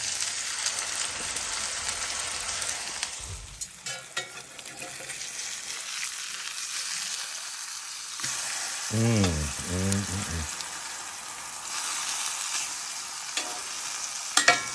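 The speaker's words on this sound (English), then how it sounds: "Fry, baby, fry." Dove meat fries in hot oil in a pan, giving a loud, continuous, close sizzle with some crackling and a brief clatter partway through.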